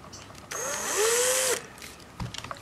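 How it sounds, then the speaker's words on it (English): An electric drill with a roughly 5mm bit whirs for about a second, its pitch rising as it spins up and holding steady before cutting off, followed by light clicks. "I needed to take about a 5mm drill"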